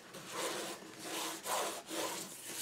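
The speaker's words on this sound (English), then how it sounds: "I'm just going to open up my book and I'm going to burnish." Score tape is burnished onto a paper mini album cover in three or four close, rhythmic rubbing strokes, each a soft scraping swish with brief pauses between.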